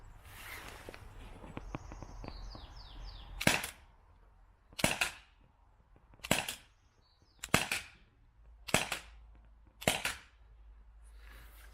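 Six shots from a TR50 launcher at an outdoor range, each a sharp crack spaced about a second and a half apart, with faint shuffling and handling noises before the first.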